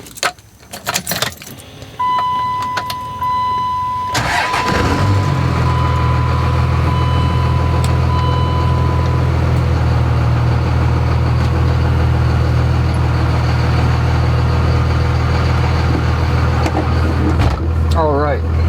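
A Dodge Ram 2500 truck engine cranks and catches after a few seconds of keys jangling, then settles into a steady, loud, low idle that runs alone to the end.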